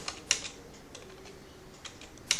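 Computer keyboard typing during a WordPress setup: scattered, faint key clicks at an uneven pace, a few sharper taps standing out against a soft background hum.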